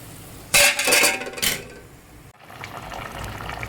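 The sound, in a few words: eggs cracked into boiling water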